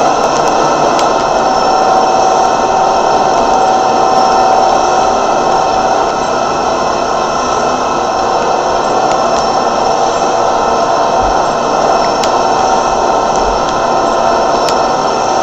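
Loud, continuous roar of ship engines in an engine room in the game Garry's Mod, a dense steady mechanical drone with a faint whine layered on top, unbroken throughout.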